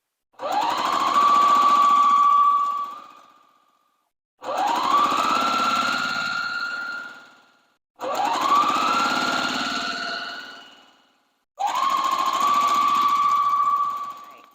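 A sewing machine stitches quilt fabric strips in four long, steady whirring runs of about three seconds each, close and loud, with short pauses between runs.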